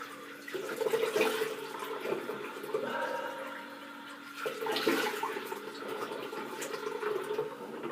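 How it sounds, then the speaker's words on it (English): Running water from a tap as a face is rinsed after a shave with a Voskhod razor blade, a steady wash with two louder splashing surges, heard alone at moderate level. "I'll just rinse my face"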